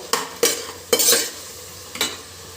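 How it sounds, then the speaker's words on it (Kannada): Beans, carrot, cabbage and chillies stir-fried for veg biryani in a pressure cooker, four sharp spatula scrapes and stirs against the pot over a faint background sizzle, close by. "ವೆಜಿಟೇಬಲ್ ಹಾಕ್ತಾ ಇದ್ದೀನಿ ನಾನು ಬೀನ್ಸು ಕ್ಯಾರೆಟ್ ಕೋಸು ಎಲ್ಲ ಹಾಕ್ತಾ ಇದ್ದೀನಿ"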